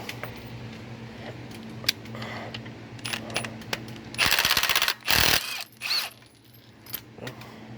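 An impact gun hammers at a stuck tensioner screw in the engine bay of a 2006 Toyota Rav4 4x4 V6: two loud, close, rattling bursts and a short third one, after a stretch of quieter clinks and a steady low hum.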